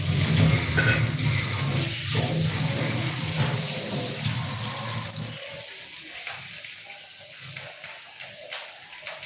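Greens are washed under running water in a home kitchen. A steady gush and splash of tap water fills the first half, then thins to lighter trickles and scattered drips near the microphone.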